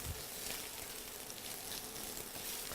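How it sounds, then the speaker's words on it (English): Onions sizzle in a frying pan while breakfast is cooked at a cottage, a dense continuous hiss that stays steady and close throughout. "you want to hear that sizzle"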